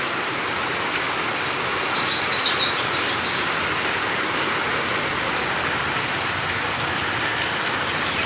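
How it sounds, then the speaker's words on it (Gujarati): Heavy monsoon rain pours down in Odhav, Ahmedabad: a dense, constant roar of drops on surfaces, steady and close throughout, with no voices. "વરસાદ ધોધમાર ચાલુ થઈ ગયો"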